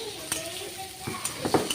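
Onions fry in a small amount of oil in a pan under a soft sizzle, broken by several stirring scrapes and light clinks of a spoon against metal, close and moderately loud.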